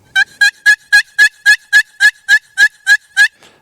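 A turkey hunter's box call rasps out a rapid, even series of about twelve loud, scratchy yelps, close and clear, with a brief pause at the end and no talking.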